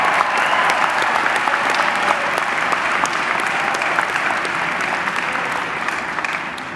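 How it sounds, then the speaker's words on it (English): A large crowd applauds steadily at a university commencement, dense clapping filling a hall and holding at an even level throughout. "let's give an applause for these extraordinary milestones"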